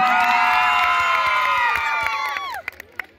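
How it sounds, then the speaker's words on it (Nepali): A large festival crowd at a live concert in Chitwan erupts in cheering, whoops and shouts, a dense roar that fades after a few seconds into scattered claps. "एकपल्ट आफ्नो लागि जोरदार ताली बजाउनु पर्यो है त।"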